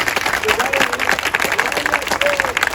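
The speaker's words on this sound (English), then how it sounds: "if you're not opposed to that, clap your hands" A crowd claps at a public discussion meeting with the Lansing mayor, loud close clapping and crowd noise mixed with overlapping voices and talk.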